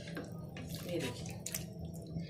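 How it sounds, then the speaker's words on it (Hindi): A glass of water pours into a pot of chickpea curry with potatoes, giving a short splashing gush with drips, while a voice talks over it. "तकरीबन हम इसके अंदर 1 गिलास पानी और डालेंगे"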